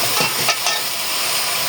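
Chachchori being stirred and fried in a pan of hot oil: a steady, close broadband sizzle with a few soft scraping strokes early on, no voices.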